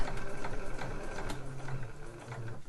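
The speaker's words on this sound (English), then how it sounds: "we're going to stitch all the way around this curve" A sewing machine stitches around the curve of a slipper boot, producing a quick, regular clatter of needle strokes with slight pulsing speed changes, close and unaccompanied by talk.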